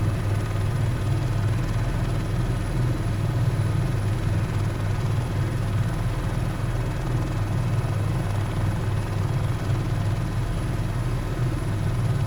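Steady, continuous drone of a Cowinsimulation H130 helicopter's rotor and turbine engine in Microsoft Flight Simulator, loud and unbroken throughout with a deep low thrum and no talk.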